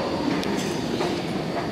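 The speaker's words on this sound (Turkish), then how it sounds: "Size şöyle metroyu da göstereyim." A metro train running through an underground subway, a steady loud rumble of wheels and motor with faint rail clatter, heard from on board or close by, with no talk.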